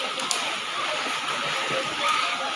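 Water splashes and sloshes steadily as people bathe in a cold river in the provinces, a broad continuous wash with a few brighter splashes near the start and end, fairly close.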